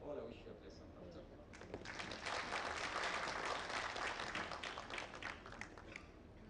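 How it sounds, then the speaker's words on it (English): Audience at a national road safety stakeholders conference breaking into applause, the clapping swelling after a moment into a dense, sustained patter that tapers slightly toward the end, with a voice audible near the start. "Another round of applause for DG Kura."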